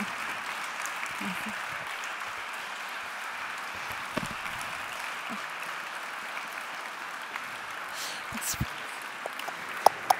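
Soft, steady applause from diners at a gala dinner, a distant, even patter of many hands with a few sharper claps near the end.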